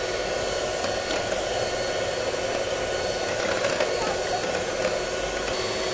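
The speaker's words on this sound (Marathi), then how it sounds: "आता हे मस्तपैकी फेटून घेऊया ब्लेंडरने।" A blender whips cappuccino coffee until creamy and foamy, a loud, continuous motor whir with a steady, unchanging pitch across the whole stretch, close by, with no voices heard.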